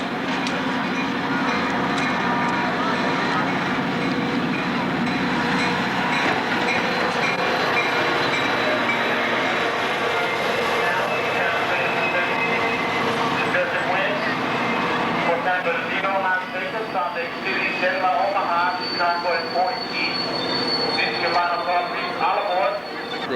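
Amtrak Desert Wind passenger train in the 1990s on the Fullerton to Salt Lake route, heard as a steady close rumble with rhythmic clickety-clack of wheels toward the end, while people talk over it.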